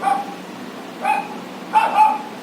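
A small dog gives three short barks or yips, spaced apart and moderately loud, over a faint steady background hiss.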